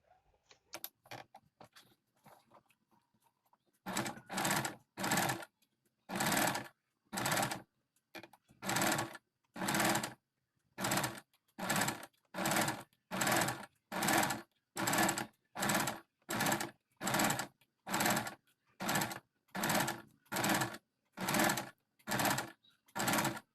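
A sewing machine stitches blouse neck fabric in a long run of regular bursts, each about half a second with short pauses between, loud and close with no voices.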